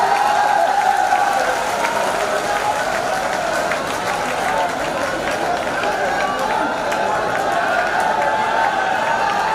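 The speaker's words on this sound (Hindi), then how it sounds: "आप तालियां बजाइए।" An audience applauding at a mushaira poetry event in Tajabagh, Nagpur: dense, continuous clapping from a large crowd that holds steady throughout, with a voice speaking over it.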